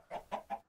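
Rooster in the Terrafirmacraft mod of Minecraft giving three quick clucks in an even rhythm, near and fairly soft, with nobody talking.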